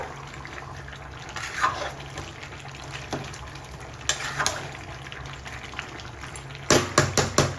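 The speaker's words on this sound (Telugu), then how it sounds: "ఒక రెండు గ్లాసులు వాటర్ అయితే పోసుకుంటున్నాను నేను" Water splashes and trickles into a metal pressure cooker in several bursts, with a steady background hum and clinks of a vessel near the end.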